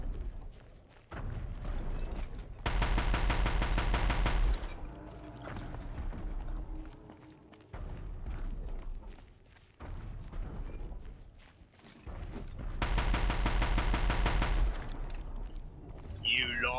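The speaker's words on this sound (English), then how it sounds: "And I have another heavy weapon. Deathbringer." Deathbringer heavy machine gun in Horizon Zero Dawn, fired in two loud sustained bursts of rapid fire, each a couple of seconds long, separated by quieter stretches with someone talking.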